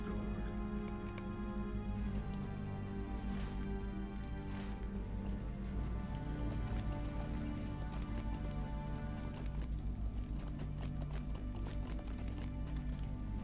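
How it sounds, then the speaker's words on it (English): Rohirrim horses gallop with steady clip-clop hoofbeats through a game battle in Lord of the Rings Online, set in a dense, continuous mix under a low rumble. "I always just loved the Rohirrim horses being able to just run over people."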